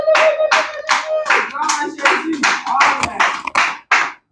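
A church congregation claps in a quick, rhythmic beat, the hand claps mixed with loud cheering voices that carry on together in a lively, close burst of worship.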